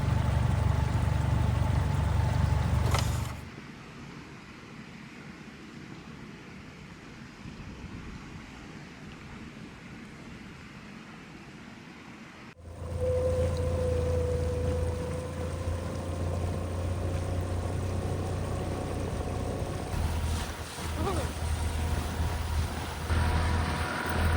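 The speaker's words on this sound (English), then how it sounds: "It's blowing snow and windy" Steady broadband wind roars throughout with blowing snow, a quieter lull in the middle before the blustery gusting returns, loud and close against the microphone.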